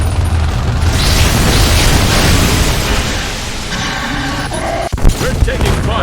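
Heavy gunfire and booming explosions in a mecha battle scene, a loud continuous barrage with a sharp blast near the end and voices talking over the combat.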